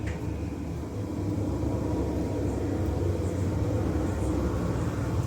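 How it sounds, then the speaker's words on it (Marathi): An airplane passes overhead near a home, heard as a steady low broadband rumble that holds at a constant, moderately loud level throughout, with no talking. "तुम्हाला विमानाचा आवाज येत असेल तर आमच्या वक्तच विमाने जातात"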